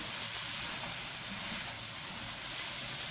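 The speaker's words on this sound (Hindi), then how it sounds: "इसे 5 से 8 मिनट तक हम अच्छी से भूनेंगे।" Semolina and carrot halwa roasting in a pan over low heat gives a steady, soft sizzle and hiss, even and unbroken throughout, with no talking.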